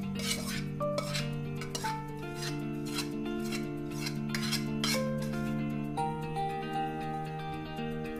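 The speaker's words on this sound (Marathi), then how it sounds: "चमच्याने आपण आधी हे मिक्स करून घेऊया, कारण गूळ गरम आहे आपला" A spoon stirs and scrapes hot melted jaggery into a dink ladoo mixture in a wide metal plate, giving repeated light metallic clinks and scrapes over steady background music.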